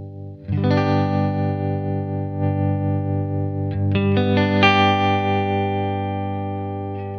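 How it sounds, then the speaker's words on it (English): Sustained electric guitar chord with a wavering tremolo effect from a Boss Katana amp and expression pedal, followed by a few more picked notes ringing out and slowly decaying; no talking. "by pushing that down, you're going to get the tremolo yeah, effect."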